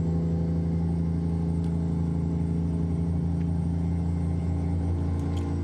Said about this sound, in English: This is John Ruta's W900 Highway Killer with a Detroit Diesel 60 series.